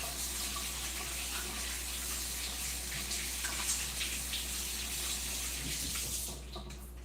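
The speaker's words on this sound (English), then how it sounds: "gonna go wash my hands real fast." A tap runs steadily while hands are washed, producing a continuous close gush of water with a low hum underneath, tapering off in the final second.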